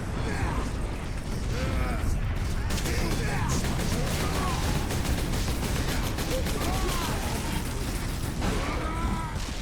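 Dense, continuous gunfire and mechanical clatter from the Space Marine video game, played at a steady loud level with chaotic bursts and metallic clanks running throughout, with no clear talk over it.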